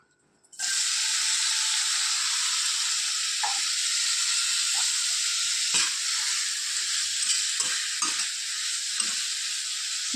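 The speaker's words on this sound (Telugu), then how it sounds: "పండిలో మళ్ళీ ఒక స్పూన్ ఆయిల్ వేసుకొని ఈ క్యాప్సికమ్ ముక్కలను వేసేద్దాం" Capsicum pieces hit a spoonful of hot oil in a pan and burst into a loud, continuous sizzle, with occasional clinks and scrapes as they are moved around.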